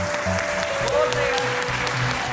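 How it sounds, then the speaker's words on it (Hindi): An audience applauds a speaker at a numerology event. Brief, scattered clapping sounds under a voice talking over a microphone. "एक बार जोरदार तालियां."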